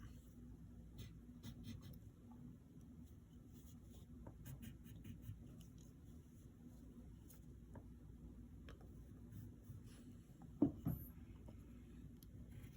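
A pencil sketches a lower lip on paper in faint, close strokes: soft scratching in short, irregular bursts against a quiet background, with one slightly louder scrape near the end.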